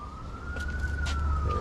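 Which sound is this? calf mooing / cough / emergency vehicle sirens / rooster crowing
emergency vehicle sirens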